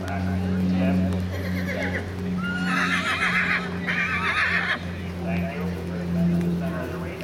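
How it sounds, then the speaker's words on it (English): Horses neigh in two loud, wavering whinnies in the middle of the clip, with possible hoof clops, all over a steady low hum and nearby voices. "stop the horses, please."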